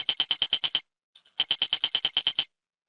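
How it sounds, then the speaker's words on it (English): Rapid bursts of clicking and popping mark incoming market order flow, two quick trains of evenly spaced sharp clicks separated by a brief gap, moderately loud and alone. "that little clicking and popping you're hearing,"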